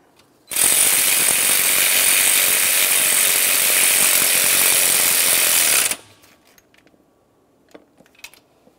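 A power ratchet runs continuously for about five seconds, loud and close, snugging a 13 mm bolt on the oil dipstick tube of a Dodge Ram 2500, then stops, leaving faint clicks and small handling noises.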